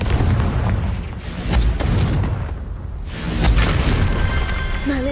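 Confringo spell blasts in Hogwarts Legacy, loud booming explosions with whooshing bursts rolling one after another amid dense game combat noise.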